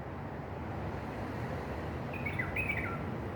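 Faint bird chirps twitter briefly over a steady low rumble of wind or traffic, with no voices.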